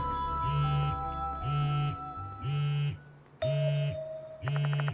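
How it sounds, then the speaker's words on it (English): In the horror video game Death Mark 2, a phone vibrates in a room in five evenly spaced buzzing pulses over a low, droning background, with no talk. "The sound of a phone vibrating echoes in the room."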